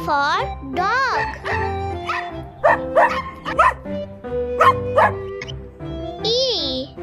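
A voice imitates a dog, yipping and barking in a playful, sing-song way, several short woofs with whimpery rising tones.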